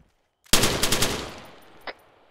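A burst of machine gun fire in the military shooter Arma 3, a loud rapid string of shots lasting about a second, followed by a single fainter distant report.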